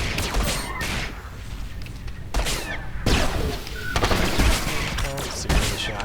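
A sniper's rapid series of shots in the video game Star Wars: The Old Republic, repeated sharp blasts with heavy thuds and sci-fi weapon effects, loud and continuous across the whole stretch.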